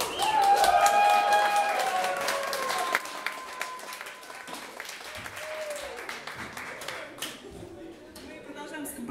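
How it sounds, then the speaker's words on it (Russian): Concert audience applause after a jazz band's number; loud, dense clapping, with whistles and cheers early on, gradually thins out and fades, and a voice speaks over it. "Спасибо вам за ваши громкие аплодисменты."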